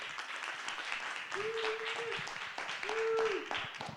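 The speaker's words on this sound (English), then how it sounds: "One more round of applause for these friends here." Audience applause at the wrap-up of a forum day, a dense, moderately loud patter of many hands clapping, with a couple of sustained vocal whoops rising above it.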